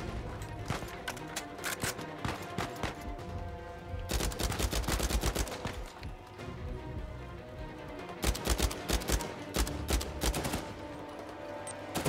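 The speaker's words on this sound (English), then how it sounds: "Four shots." Repeated gunfire in the action game Uncharted 4: A Thief's End, with sharp bursts in clusters over a continuous game soundscape, loudest and densest in the middle and near the end.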